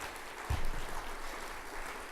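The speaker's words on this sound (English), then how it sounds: "Could we have a round of applause for Duncan?" An audience at a green tourism conference awards event applauds Duncan Bryden with a soft, moderate round of clapping that starts sharply and continues steadily at a distance.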